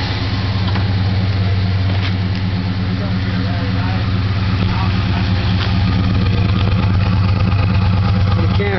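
A 318 engine running at idle, heard close at the tailpipe: a steady, loud low exhaust rumble with an even pulsing throb throughout.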